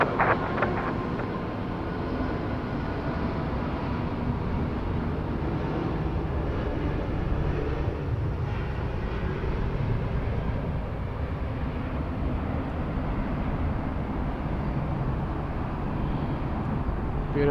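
A jet airliner climbs out after takeoff from Sydney Airport, a broad steady roar of engine and rushing noise that stays loud and even throughout, with no talk.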